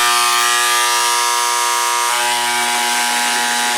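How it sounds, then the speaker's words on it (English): A power tool turned down to a low speed grinds grout out from between tiles along the factory-finished edge, a loud continuous high-pitched whine with a steady tone that shifts slightly partway through, alone and close up. "turn the tool down and run the tip on the clean finished edge, the factory finished edge. And then that way you can take the grout out without chipping this tile"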